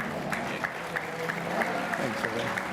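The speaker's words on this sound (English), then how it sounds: "quick round of applause for Justin Bell, Derek's son" Spectators on the balcony at the 2025 Goodwood Festival of Speed give a quick round of applause, moderate clapping with a few sharper claps standing out and faint crowd voices underneath.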